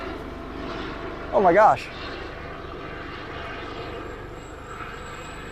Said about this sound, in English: I think there's a helicopter about to land on top of me.